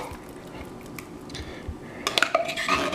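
A spoon scrapes canned chili from a can, with soft metallic scraping that ends in a quick burst of clinks and rattles near the end.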